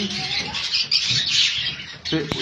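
Young red-based sun conure parrots, six to seven months old, give dense, harsh screeching calls that overlap continuously and sound close and loud.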